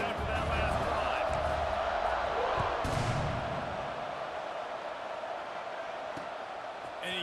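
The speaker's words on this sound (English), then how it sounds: "this crowd is feeling themselves after that last drive" A stadium crowd at a football game roars after a scoring drive and extra point as the kickoff unit takes the field. A broad, steady wash of cheering fills the stands, louder at first and then easing to a sustained murmur.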